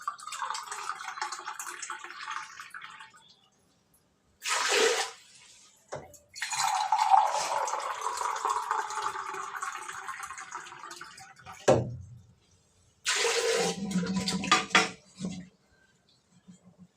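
Water is poured into a pot in a home kitchen, coming in several separate bursts of splashing and running water with clattering pots and utensils between them, close by and moderately loud, with no voices.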